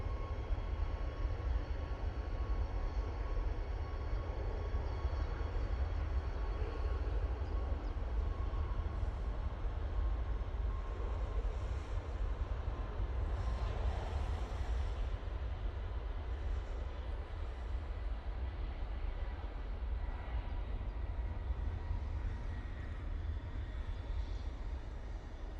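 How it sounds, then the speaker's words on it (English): A Ryanair jet powers up for departure at Manchester Airport, heard as a steady distant engine roar and broadband rush that holds at a low level for the whole stretch, with no voices over it. "Ryanair about to put some power on as it departs off to Santander"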